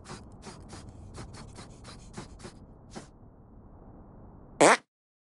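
A short, loud burst of fart noise from South Park: The Stick of Truth comes at the end, after a stretch of soft rhythmic game background sounds and a quiet pause.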